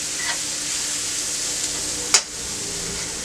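Onions and mushrooms frying in a pan for a mushroom, swiss, bacon and onion burger give a steady, even sizzle throughout, with one brief sharp scrape near the end.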